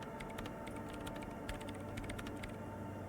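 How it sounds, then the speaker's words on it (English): Faint rapid clicking of fingers typing on a computer keyboard, irregular bursts of keystrokes over a steady low background hum. "her hands typing hundreds of commands into the machine"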